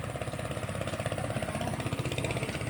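A farm machine engine at a small farm in Rizal, Philippines runs at a steady idle, its low, even pulsing chug sounding close and constant throughout, with no talking.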